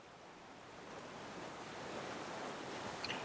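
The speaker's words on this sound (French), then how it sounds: "écouter le bruit de la mer" Ocean surf rolling in steadily, a continuous broad wash of breaking waves that swells slightly louder toward the end, with no voices.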